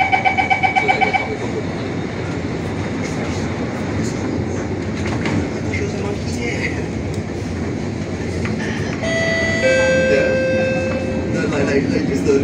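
Alstom Movia R151 metro train on the SMRT line between Bedok and Tanah Merah: a rapid chime sounds, doors close, and the train rolls away with a steady rumble and rising whine, with a recorded announcement over it.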